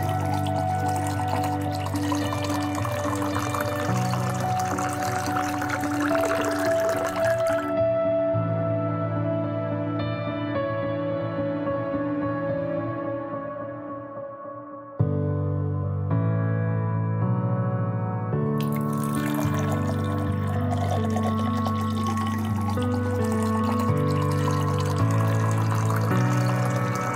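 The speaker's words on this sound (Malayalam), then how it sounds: "വെള്ളം ഒഴിച്ചു കൊടുക്കാം." Water is poured from a vessel into a pot of beef dum biryani with sunflower oil and whole spices, a long steady stream that changes pitch as the pot fills, pauses briefly, then resumes.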